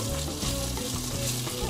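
Bacon frying in a 5.6-litre Rommelsbacher electric pressure cooker, a steady close sizzle with soft crackle and faint stirring throughout, no voices.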